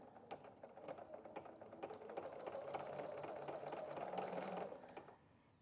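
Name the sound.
BERNINA sewing machine with ruffler foot stitching fabric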